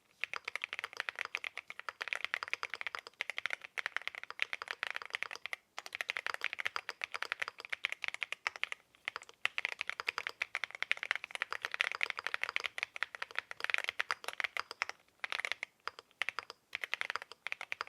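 Steady, fast typing on a CIDOO V68 mechanical keyboard with an Alice layout, a continuous stream of soft, muted key clacks and rattles at close range, with no voices.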